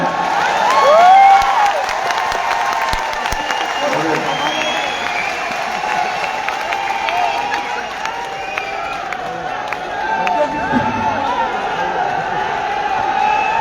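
An audience at a stage event breaks into applause and cheering, loudest near the start and then easing into a steady crowd murmur with scattered claps and shouts.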